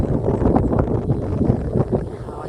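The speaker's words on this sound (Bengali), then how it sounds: "হাওয়া দিচ্ছে, প্রকৃতির হাওয়া" Steady wind gusting across an open field beside growing jute crops, a broad rushing roar buffeting the microphone with no voices.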